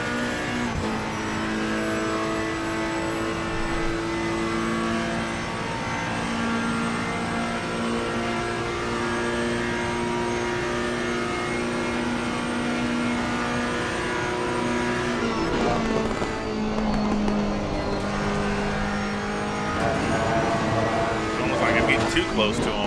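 The Ferrari EVO GT3 race car in Assetto Corsa Competizione roars at high, steady revs down the straight at Paul Ricard, loud and close, with a brief shift around the middle. Someone talks over the engine.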